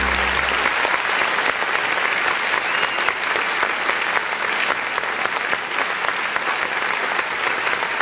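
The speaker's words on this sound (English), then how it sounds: "That's a long applause." A prerecorded applause track played indoors, a long, loud, continuous wash of dense clapping running unbroken throughout.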